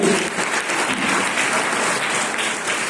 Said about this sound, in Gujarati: આપણે તાળીથી અભિનંદન આપી દઈશું